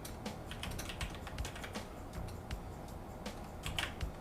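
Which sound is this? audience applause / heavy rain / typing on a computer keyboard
typing on a computer keyboard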